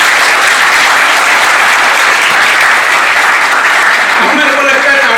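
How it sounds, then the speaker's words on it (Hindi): Dense, steady applause from a seminar audience fills the whole stretch, loud and continuous, with a few voices surfacing near the end. "मेरे को लगता है तालियों की आवाज ठीक है"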